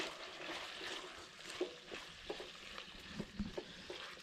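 Vegetables sizzle and fry in a wok over a Kelly Kettle hobo stove outdoors, a quiet steady hiss with several soft knocks and stirring clatters.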